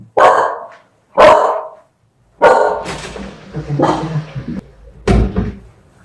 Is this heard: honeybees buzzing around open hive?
no